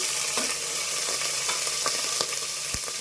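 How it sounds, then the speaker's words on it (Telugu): Green chillies fry in hot oil with a steady, bright crackling sizzle, and occasional soft stirring taps sound against the pan throughout. "ఫస్ట్ ఆయిల్ హీట్ ఎక్కింది, పచ్చిమిరపకాయలు వేసేద్దాము."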